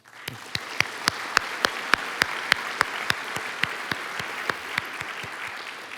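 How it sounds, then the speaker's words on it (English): A round of applause from the audience at an economics and finance event on financial technology, heard as distinct, evenly spaced claps at a moderate distance, steady throughout and then softening. "please join me in giving them a round of applause"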